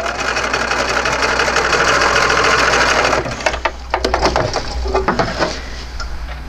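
A sewing machine stitches a baby rolled hem in fabric, its steady dense whir running alone for about three seconds before breaking into a looser, uneven run of clicks and mechanical knocks.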